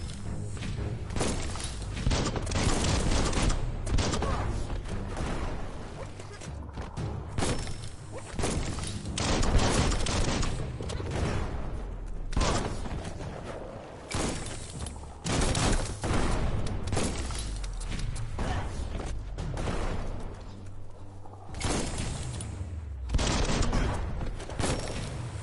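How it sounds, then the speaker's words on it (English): Explosive weapon fire in the video game Biomutant, with dense, rapid bursts of booming blasts and thuds following one another over a loud, continuous game soundscape, close and heavy throughout. "That's a bomb lobber."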